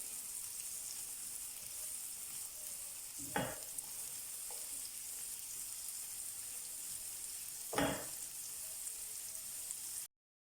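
Onion frying in a pan for shakshuka gives a steady, even sizzle throughout, broken by two brief louder stirring scrapes, then the sound cuts off abruptly near the end.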